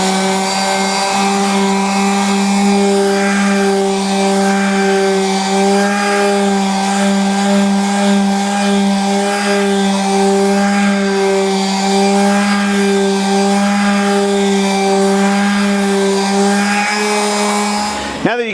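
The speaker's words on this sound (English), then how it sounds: "I'm going to get my mask on, and we're going to get sanding over here." Power sander working over the back of a mid-century modern walnut credenza during refinishing, a steady loud droning whine that runs continuously and alone, then cuts off at the end.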